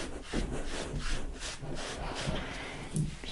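A dry brush sweeps over skin in quick short strokes near the lymph nodes, making soft, close, rhythmic scratchy rubbing sounds with no talking.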